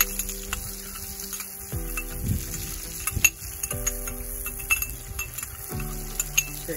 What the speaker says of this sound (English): Going in with some hot pepper here. And the rest of our scallion.